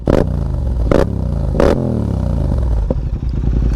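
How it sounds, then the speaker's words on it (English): A Yamaha MT-07 motorcycle with a CP2 engine and Akrapovic exhaust revs loudly and close up, with three sharp throttle blips early on, then a steady deep idling rumble. "That beautiful sound of the CP2 engine and this Akrapovic exhaust, I tell you, on this Yamaha MTL7 is absolutely awesome."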